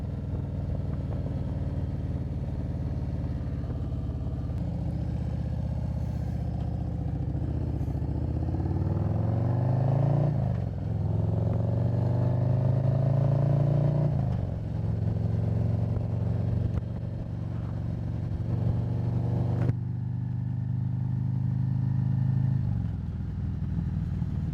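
Motorcycle ride with the helmet visor up: steady engine drone mixed with heavy wind rush, the pitch rising and falling as the bike accelerates and shifts, close and continuous with no speech.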